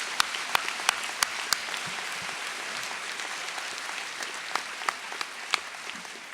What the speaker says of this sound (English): Let's give these students a great round of applause.